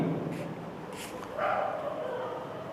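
A dog barks and yips a few times in the background while a lecturer is giving an online test, short sharp calls over a steady low hum without clear speech.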